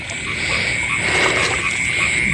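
Frogs croak at night near water, a dense chorus of many callers with steady high trilling and scattered nearer croaks under the continuous drone.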